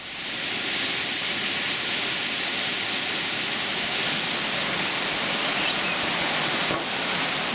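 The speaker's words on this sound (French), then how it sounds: "Donc c'est un enchaînement de 50 cascades éparpillées sur 7 niveaux." The Erawan waterfalls in Thailand, a chain of cascades across forested tiers, give off a dense, steady broadband roar of falling water, loud and close without a break.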